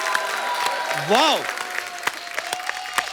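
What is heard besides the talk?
studio audience applause welcoming a guest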